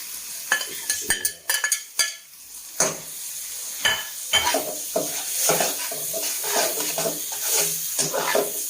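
Bhindi stirred and frying in a pan in the middle of cooking bhindi masala: repeated scraping strokes of a spoon against metal over a continuous, fairly loud sizzle.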